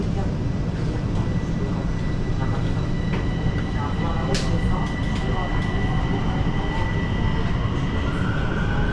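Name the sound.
Bucharest metro train ride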